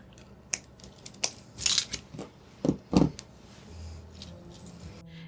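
Cutters snip beading wire on a crystal bead figure, with several close, crisp clicks and crunches in quick succession, followed by faint handling noise.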